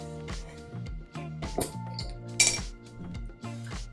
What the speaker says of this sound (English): we'll open these up, see if there's any pop, any fizz